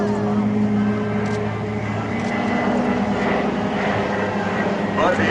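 Twin-engine PBY flying boat, each radial engine near 1,200 horsepower, drones overhead at an airshow, a steady loud propeller roar throughout with no talk.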